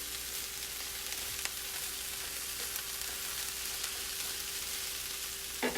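Vegetables and soy nuggets sizzling in a stir fry for a veggie peanut dish, a continuous hissing crackle in the pan, steady and close with no talk, plus a faint tonal hum underneath.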